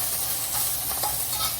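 Onion sautés in a pan for ginisang sikwa, a loud continuous sizzle with stirring scrapes close by, no voices.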